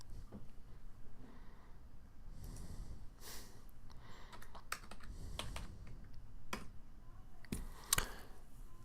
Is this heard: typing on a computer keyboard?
yes